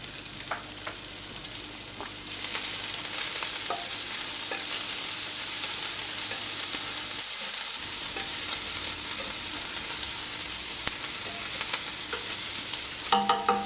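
Golden onion stirred together with cilantro and celery in a pan gives a steady, close sizzle of frying with scraping stir sounds throughout, rising in intensity after a couple of seconds, with a few clacks near the end.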